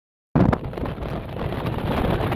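After a brief silence, wind rushes against the microphone at the Peak in Hong Kong, near the Sky Terrace, in a steady, fairly loud rumble that continues to the end.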